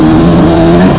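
A 2026 Yamaha YZ125X dirt bike riding on a rocky trail, a loud, close, steady two-stroke engine drone filling the whole second.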